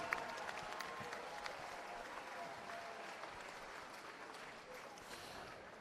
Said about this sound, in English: may we please have a round of applause for the main event